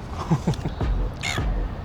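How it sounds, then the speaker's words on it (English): Seagulls call in short harsh squawks at close range near the Sydney Fish Market, a few quick cries over outdoor background noise. "We're getting surrounded by the seagulls now."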